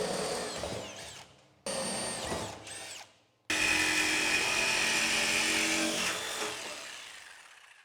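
Power tool, likely a drill or cutter, cutting an opening in an enclosure for a rain-proof 12 volt solar power system; loud whining bursts with brief pauses, then one long continuous cut.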